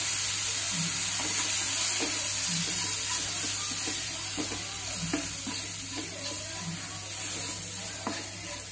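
A spoon stirs mushroom curry in a sizzling pan with a steady crackle of frying, tapping and scraping against the pan in an irregular rhythm, close up and with no speech.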